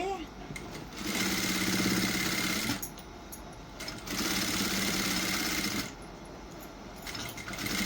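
Sewing machine stitching a plain blouse, running in two rapid buzzing bursts of a few seconds each with brief pauses between, close and steady.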